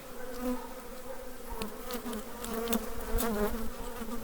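A late-season honeybee swarm drones in a dense, continuous buzz, steady and close throughout with no voices.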